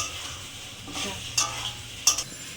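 An egg and masoor dal mixture sautéing in oil, a soft steady sizzle under two or three sharp spoon scrapes and taps against the pan.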